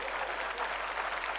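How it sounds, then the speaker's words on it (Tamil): An audience at a Tamil debate show claps steadily throughout the short stretch, a dense continuous patter with no pauses. "கைத்தட்டிய 11 பேருக்கு நன்றி."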